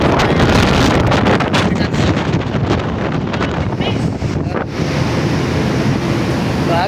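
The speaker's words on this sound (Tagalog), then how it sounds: "grabe talaga lakas ng hangin, oh" Strong wind buffets the microphone over big, crashing sea waves off South Africa, a loud, continuous roar that surges and eases near the end.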